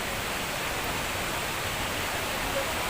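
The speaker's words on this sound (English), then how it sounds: "look at the awesome waterfalls" Steady broadband roar of rushing water from a small waterfall near Hogenakkal Falls in Tamil Nadu, continuous and fairly loud with no break, heard from close by.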